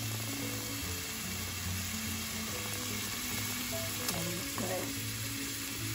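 Garlic and onion cooking down in olive oil for a prosciutto and peas tomato sauce, giving a steady low sizzle throughout with faint stirring scrapes near the end, moderately quiet and continuous, no talk.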